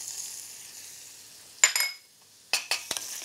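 Onions sweating in oil in a sauté pan give a soft, low sizzle, broken by a few sharp clinks and scrapes of a utensil against the pan.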